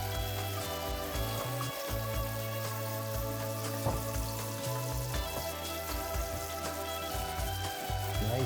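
Chicken pieces frying in a pan for chicken parmesan, a steady dense sizzle with crackling oil spatter that holds throughout at close range, with a low hum beneath.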